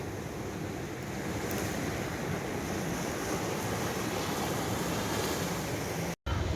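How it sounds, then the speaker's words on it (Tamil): Ocean surf washes onto the beach at Kurumpanai as a constant broad roar, loud and close, with wind noise and a brief dropout near the end. "ஒரு வழியாக கடற்கரைக்கு வந்துட்டோம்"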